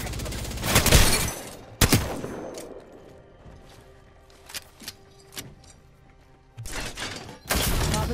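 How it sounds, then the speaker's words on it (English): Gunfire in the video game Apex Legends: sharp broadband bursts near the start and end with scattered lighter shots between, loud and close. "Taking fire."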